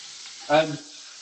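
Chorizo sizzles in a non-stick pan with a steady, hissing fry throughout and a brief louder burst in the middle, heard close and without talk.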